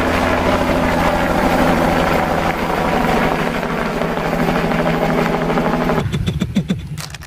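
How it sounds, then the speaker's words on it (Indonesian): A toy rescue helicopter, orange, gives a steady loud droning engine and rotor whir that runs on without a break, then breaks up into rattling, clattering bursts near the end. "Wih, ini helikopter penyelamatan."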